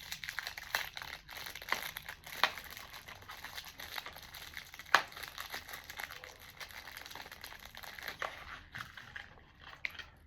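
Wrapper of a surprise box package crinkling and crackling as it is torn open, with irregular rustles and a few sharper snaps, close and fairly quiet.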